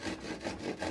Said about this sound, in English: you're sawing as vertically as you can judge